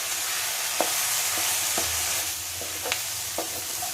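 Masala spice powders frying in a pan with baby corn and capsicum curry, a soft continuous sizzle broken by several sharp spatula scrapes and taps.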